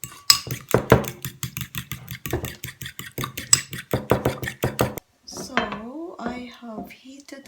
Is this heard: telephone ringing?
no